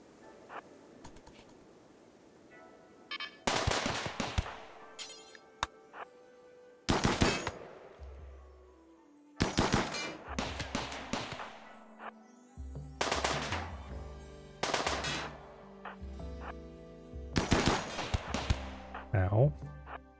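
Turret firing in RimWorld, sharp bursts of rapid automatic gunfire arriving in repeated separated volleys over about twenty seconds, loud against quieter gaps with low rumbling impacts between.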